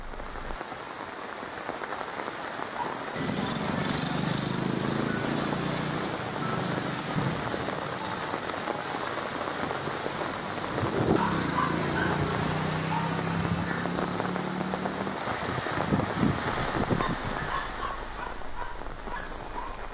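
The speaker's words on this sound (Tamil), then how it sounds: "ராமநாதபுரம் மாவட்டம் மற்றும் அதன் சுற்றுவட்டார பகுதிகளில் கனமழை வெளுத்து வாங்கியது" Heavy rain in Ramanathapuram district falls as a dense, steady hiss and patter on surfaces, continuous and fairly loud throughout, with faint background sounds beneath.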